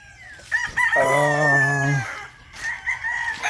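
A broodcock rooster crows once nearby, a loud drawn-out harmonic call lasting about a second and a half, with softer clucking and farmyard sounds afterwards.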